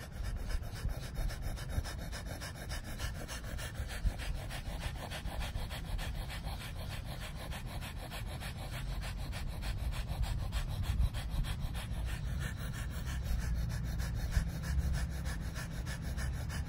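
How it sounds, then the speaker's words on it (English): Rapid, steady nasal breath-of-fire exercise, with quick forceful puffs in and out through the nose repeating continuously and evenly up close for the whole stretch, with no talking. "Breath of fire. In through the nose,"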